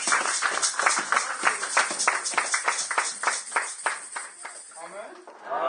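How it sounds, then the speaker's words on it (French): A church congregation applauding, a rhythmic burst of clapping in steady beats, fairly close, with a voice heard over it. "On va applaudir notre Dieu."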